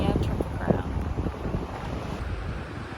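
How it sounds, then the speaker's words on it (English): Gusty wind buffets the microphone on a rocky Appalachian Trail descent near Dragon's Tooth in Virginia, a rough, uneven roar with a few brief thumps, loud and close throughout. "It is a very windy day though."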